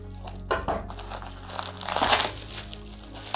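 Packaging crinkles and crunches as a parcel holding a 20 cm aeration disc for a garden pond is opened, with a few close, uneven bursts of rustling.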